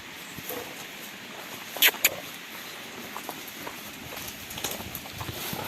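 A five-year-old Percheron stallion, Yurko, walks outdoors, his hooves making faint, irregular clip-clop steps with a couple of sharper knocks.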